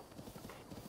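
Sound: horse hooves clip-clopping in Breath of the Wild video game

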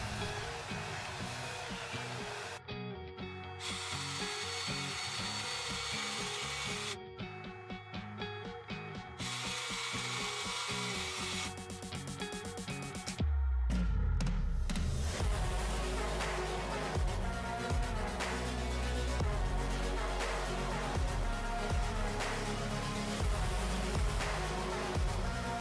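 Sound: half-inch spindle sander smoothing curves on a wooden router template

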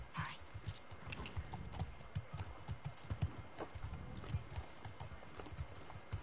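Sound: horse hooves clip-clopping in a video game

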